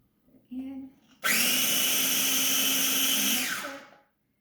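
A food processor pulsing butter into a cheesecake crust mixture: a short burst, then a loud, steady whir lasting about two seconds before spinning down to silence.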